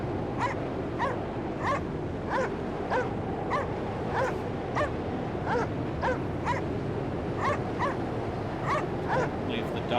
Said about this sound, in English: Leave the doggies.